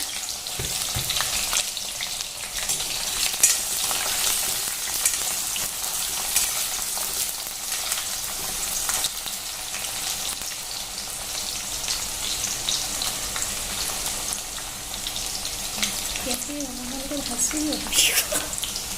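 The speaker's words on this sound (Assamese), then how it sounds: "এয়া মই কেৰাহীত পিঁয়াজ দি দিছোঁ" Onions frying in hot oil in a kadai give a steady, close, loud sizzle that runs unbroken throughout, with brief scraping and stirring sounds near the end.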